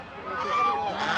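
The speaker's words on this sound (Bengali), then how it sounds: "অনেক বড় রাজহাঁস।" A large goose honks at a rural village livestock market: one drawn-out, nasal honk, close and fairly loud, rising and wavering over about a second.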